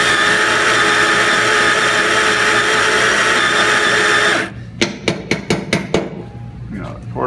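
A Baratza Sette 30 coffee grinder grinds beans at an espresso setting, a loud steady buzzing whir for several seconds that cuts off abruptly, followed by a few sharp knocks and taps.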